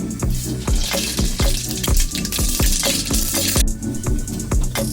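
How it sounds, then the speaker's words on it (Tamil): Mustard seeds splutter in hot oil in a cooker on a gas stove, a dense, loud crackle of rapid pops and sizzling that runs steadily throughout. "எண்ணெய் சூடாயிருச்சு. இப்ப கடுகு போட்டுக்கலாம்."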